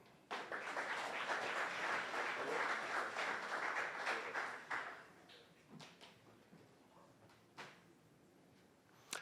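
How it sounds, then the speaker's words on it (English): An audience at a nanotech and biotech tech talk applauds with dense clapping that swells, then thins into a few scattered claps before fading to quiet. "please give a round of applause for Eugene."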